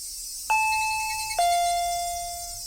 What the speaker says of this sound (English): The bell rang. They were here.